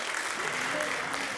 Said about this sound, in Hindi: थोड़ी शोर, थोड़ी तालियां और होनी चाहिए for the couple.